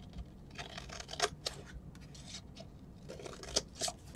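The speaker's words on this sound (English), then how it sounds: "five-bladed scissors and cut some fringe into it." Five-bladed scissors snip fringe into a paper card, a series of quiet close crisp cuts and rustles at irregular intervals, with no voices.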